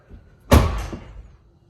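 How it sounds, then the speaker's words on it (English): A Tesla Model Y car door slams shut nearby, a loud low thud with a short rattling decay. "You close the door, basically slam the door."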